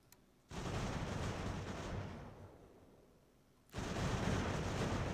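Cannon fire in Ultimate General: American Revolution, a dense, continuous rumble of distant artillery and battle noise that swells, fades for a few seconds, then returns at full strength.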